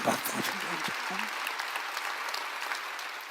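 Church congregation applauding during a sign-language sermon, a steady wash of clapping that carries on for several seconds, with a voice speaking briefly over it at the start.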